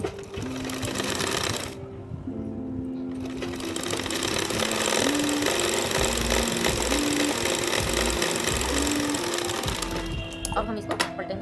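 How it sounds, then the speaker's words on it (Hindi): Sewing machine running steadily as it stitches a folded fabric strip, a loud continuous whirring with a brief pause near the start and short speed changes, while a person talks over it throughout. "तो एक सिलाई हमें इस तरह से लगानी है फोल्ड करके।"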